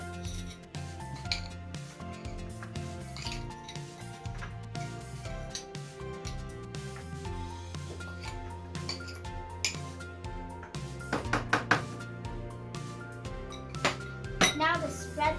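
A wide spatula pushes and spreads pumpkin seeds across a pan for roasting, making a continuous run of clinks, taps and metallic scrapes that grows busier toward the end, close by but fairly quiet.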